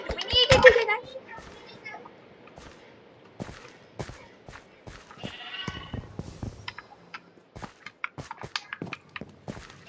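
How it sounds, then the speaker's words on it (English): Minecraft sheep bleating in an extreme survival sky block game, a loud bleat near the start followed by game footsteps and clicks while children talk over it. "More sheep."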